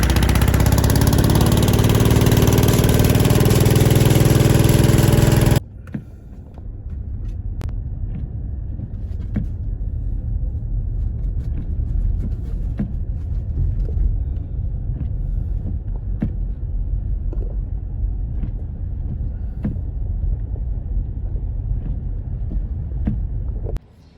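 A small Kohler engine idling with a steady, low throbbing rumble and faint ticking, following a few seconds of a much louder roaring blast that cuts off abruptly.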